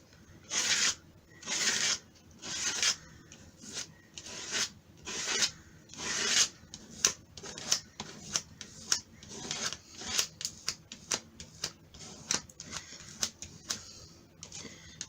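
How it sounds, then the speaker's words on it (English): Repeated rasping scrapes across a primed acrylic surface on a mixed media piece, with long strokes at first, then quicker short scrapes, close and fairly quiet. "I am like scraping it away because I want it really thin."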